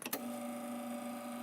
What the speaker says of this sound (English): So that's the sound of a rotary pump.